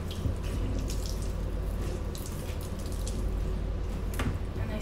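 Steady running water rinsing a dog during a salon spa bath, a continuous close splashing flow with occasional drips, no talking.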